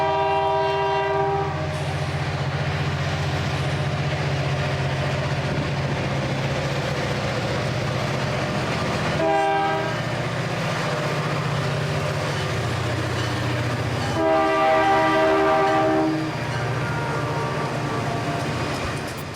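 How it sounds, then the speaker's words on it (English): SD40-2 diesel locomotive leading a coal train in western New York, its engine droning steadily throughout while the horn sounds in long tonal blasts, one near the start and another later, with a brief pause between. "Here is another clip of the locomotive leading the Fort Drum coal train in western New York."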